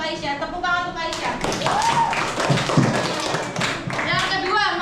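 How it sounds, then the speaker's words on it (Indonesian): A class claps for a pupil in a classroom, a dense patter of many hands lasting several seconds, with children's voices mixed in. "Tepuk tangan untuk Aisyah."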